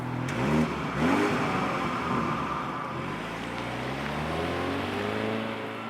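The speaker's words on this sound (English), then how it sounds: "Here with the 30i, 252 horsepower, the 4-cylinder petrol engine with the turbo." A 2019 BMW X3 30i with a 252-horsepower four-cylinder turbo petrol engine accelerating, rising engine tone climbing through gears with a steady road roar, heard from inside the car without talking.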